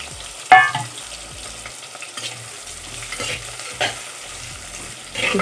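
Onions sizzle gently in a tempering of oil in a pot over low heat, with a few clanks and scrapes of stirring breaking through the soft, steady frying.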